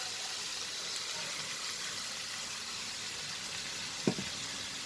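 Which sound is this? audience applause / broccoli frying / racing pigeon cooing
broccoli frying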